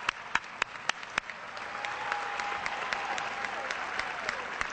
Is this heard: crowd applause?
yes